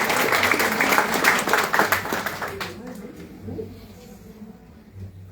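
Audience applause at a Spiritist talk by a speaker, a dense burst of clapping that fades out over a few seconds beneath a speaking voice.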